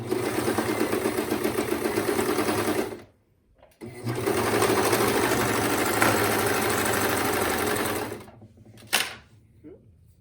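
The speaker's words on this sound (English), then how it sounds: "lift up my presser foot, which is here, and then start serging and see if it's chaining correctly onto my fabric" A Brother 1034D serger stitches a scrap of fabric in two sustained bursts of fast, even whirring, close and clear, with a short pause between them and a brief click near the end.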